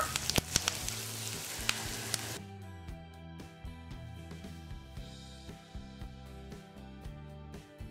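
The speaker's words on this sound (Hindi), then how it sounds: "जब राई क्रैकल होने लगे, इसमें हम 3 कटी हुई तीखी हरी मिर्च डाल देंगे।" A loud, dense sizzle of frying in hot oil, then quieter popping and crackling with scattered sharp pops as mustard seeds spatter and chopped green chillies fry in the pan.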